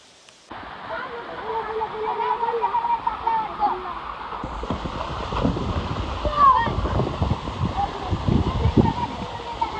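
Rushing water at Pendki waterfall roars steadily, with splashing and wind buffeting the microphone, while people talk and shout nearby over the torrent.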